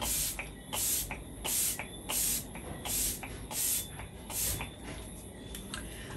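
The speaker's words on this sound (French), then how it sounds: "Je vais passer mon spray. C'est le Dewy Coconut Setting Mist de LF" Dewy Coconut Setting Mist sprayed onto a face in a quick series of about eight short, soft hissing pumps with a fairly even rhythm, close and fairly quiet.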